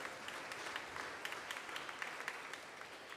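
A church congregation at a Pongal celebration Mass claps together, producing soft, distant applause that holds steady for a few seconds.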